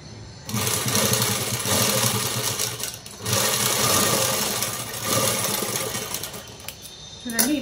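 A sewing machine stitches a blouse jacket with a steady, close mechanical whir that runs in long stretches, broken by brief pauses, while someone talks over it.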